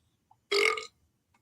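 A single short, loud fart-like sound effect fired from a soundboard button during a live fight-watching stream, heard alone against near silence.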